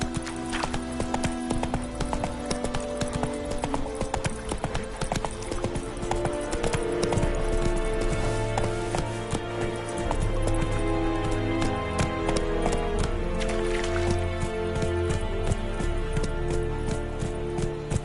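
A horse gallops in The Witcher 3 on PS5, steady rhythmic hoofbeats pounding throughout with a constant clip-clop cadence over game music and ambience.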